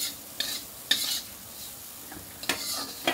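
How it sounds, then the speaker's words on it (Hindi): Kashmiri chili powder stirred into hot oil in a pan for amla, garlic, green chili and ginger pickle, with the heat just switched off, giving a soft steady sizzle broken by a few brief scraping strokes, close and without talk. "कश्मीरी मिर्च डाल दी है और गैस को बंद कर दिया मैंने।"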